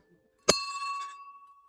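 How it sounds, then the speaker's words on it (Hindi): A single metal temple bell struck once inside a cave shrine, a sharp clang followed by a clear ringing tone that slowly fades, alone in quiet surroundings. "ये घंटी बजाई"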